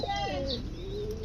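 Pigeons kept for sale coo close by, a short rolling low call with a brief chirp over it and a steady background hum, no talking.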